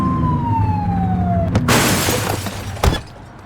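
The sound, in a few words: police car siren in a police video game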